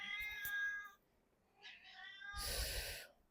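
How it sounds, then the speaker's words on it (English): A pet cat meows up close indoors: a drawn-out tonal meow, then a shorter one, followed by a louder, harsher cry at the end, with quiet gaps between. "I don't know if you can hear, but my cat is here."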